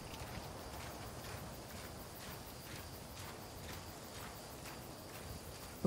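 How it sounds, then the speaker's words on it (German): Marching footsteps in Star Wars Jedi: Survivor, a faint, steady, evenly spaced tread of soft thumps repeating throughout, fairly distant. "Ich höre gerade marschierende Schritte."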